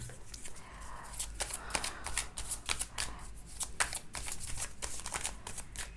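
Tarot cards shuffle in quick, crisp riffles and slides during a reading, close and fairly quiet, with a faint voice now and then underneath.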